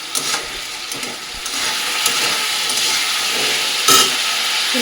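Cauliflower fries lightly in a pan, giving a loud, steady hissing sizzle close by, with a few soft knocks early on and a brief flare of sharper crackle near the end.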